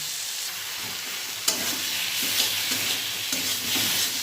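Ridge gourd and pumpkin ghonto is stirred in a hot pan, a soft continuous sizzle broken by a few sharp scrapes of the spoon against the metal, close and without talk.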